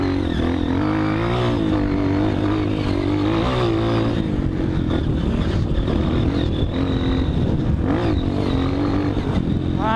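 A dirt bike engine revs hard on a rocky trail, a loud, continuous rasping drone that rises and falls as the rider works the throttle over loose stones.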